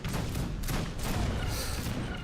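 Rapid volleys of cannon and artillery fire from an Age of Empires 3 battle, with a culverin among the guns, thudding and booming steadily throughout without pause.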